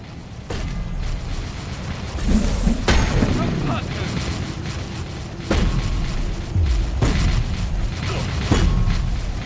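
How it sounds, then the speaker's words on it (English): A listening post being demolished in the strategy game Dawn of War 3: repeated heavy booms and crashing explosions with mechanical clatter, loud and sustained, mixed with game voices and battle noise. "Demolition complete. The listening post is destroyed"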